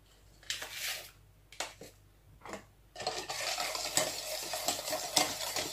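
Carrot cake batter mixed by hand in a bowl, irregular scraping and sloshing strokes at first, then a denser stretch of steady stirring, close and soft, with no voices.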